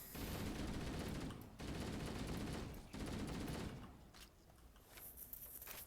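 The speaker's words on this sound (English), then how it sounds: "Let's get the assault rifle." Sustained automatic assault rifle fire in the Halo Anniversary game, a dense loud burst broken by two brief pauses before tapering into scattered quieter shots and game noise.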